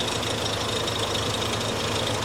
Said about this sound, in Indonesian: Di sini mesin nggak ada masalah, jadi siap pakai.